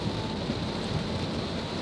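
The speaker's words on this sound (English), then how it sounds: "I'm sure you can hear that rain." Steady rain pours down in a dense, continuous hiss, loud and close, with no voices.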